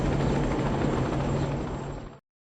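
Sci-fi helicopter in the Rogue Trooper video game, a loud dense rotor and turbine roar held steady for about two seconds before cutting off abruptly into silence.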